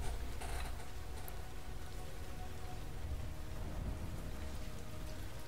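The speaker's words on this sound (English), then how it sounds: "There's some thunder in there as well." Steady rain ambience from a Star Wars game level, a dense continuous patter of drops with low rumbling underneath that suggests distant thunder, holding at an even level throughout with no voices.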